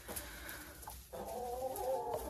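Laying hens munching clean hay and cabbage beside a bunker feeder cluck steadily and close by, a continuous soft chorus of overlapping clucks with no talking.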